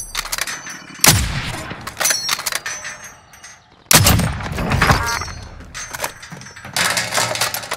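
Heavy gunfire exchange in a video game, with sharp loud bursts of shots and clanging impacts coming in several clusters, some near and punchy, others more distant.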